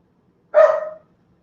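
One sharp, loud bark from a dog indoors, short and close, standing alone against a quiet room.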